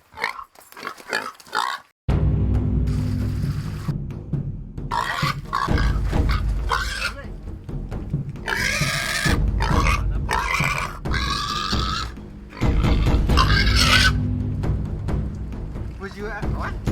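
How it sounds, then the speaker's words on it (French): A pig slaughtered for Miao New Year in a village in Leishan squeals and grunts loudly in long rough bursts, with brief gaps between them and a stretch of speech before it. "L'abattage du cochon pour le Nouvel An intensifie l'ambiance de fête."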